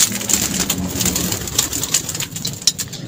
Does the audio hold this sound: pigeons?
yes